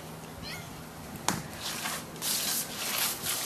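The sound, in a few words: orange cat meowing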